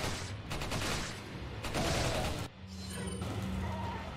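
Chicago Typewriter submachine gun firing in Resident Evil 4, a dense, loud burst of rapid shots over game sounds, dropping off briefly before more shooting continues.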